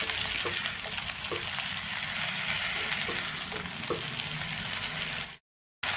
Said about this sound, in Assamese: এতিয়া ভেন্দিখিনি তেলত অলপ টাইম এনেদৰে ভাজি ল'ম।